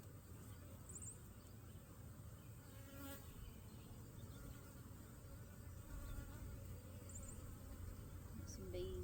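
Honey bees buzz around an open hive as the hive is worked, a soft continuous drone heard close but faint throughout.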